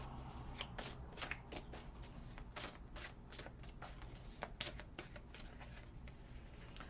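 Tarot cards shuffled and drawn by hand, a rapid riffling patter of card edges with repeated brisk flicks and slaps, close and continuous with no talking.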